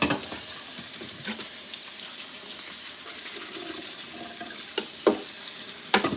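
Water runs steadily into a sink to rinse a freshly scoured pot, giving a continuous close hiss with a couple of sharp clinks of the pot near the end.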